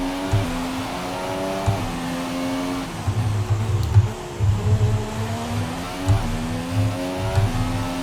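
Formula One race car in the F1 2017 video game, a McLaren Honda at the Australian Grand Prix, engine whining up through gears with repeated rising revs and shifts, steady and loud with no talk.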